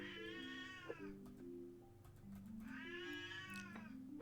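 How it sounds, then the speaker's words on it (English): A cat meows twice in long drawn-out, whining cries at close range, separated by a short pause, alone over a faint steady background hum. "Why are you meowing, thief?"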